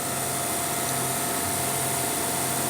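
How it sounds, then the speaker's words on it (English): Vacuum pump running steadily at close range, giving a constant loud mechanical drone with a steady hum and broadband hiss and no change in level. "that's the vacuum pump"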